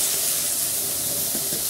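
A paste hits a very hot kadhai and gives off a loud, continuous hissing sizzle with a faint bubbling undertone, heard close up and alone.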